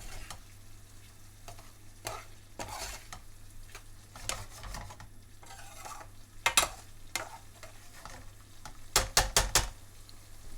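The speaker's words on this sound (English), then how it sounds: "Then stir through well, ensuring the meat is covered in the sauce to prevent it drying out." Chicken being stirred and fried in a spicy vindaloo curry sauce, with repeated scraping and clinking of a spoon against the pan over a steady low sizzle, louder bursts of stirring coming in clusters.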